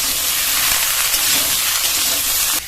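Peeled ridge gourd fries on a high gas flame, giving a loud, steady sizzle and hiss that runs unbroken and close throughout, with no voices.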